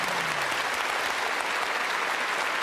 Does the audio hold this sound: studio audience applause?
yes